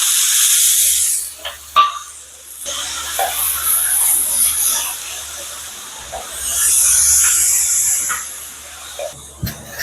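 Sliced onion goes into hot oil with ginger and garlic in a pan for a fish masala, giving a loud hissing sizzle that swells, dips, and rises again.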